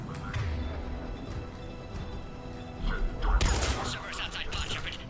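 Gunfire at a checkpoint in Mass Effect 3 Legendary Edition starts as scattered thuds and clanks, then swells into a loud cluster of rapid shots in the second half amid background combat noise.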